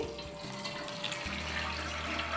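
Cold tap water runs steadily over rice being washed in a kitchen, making a continuous close splashing rush with no talk.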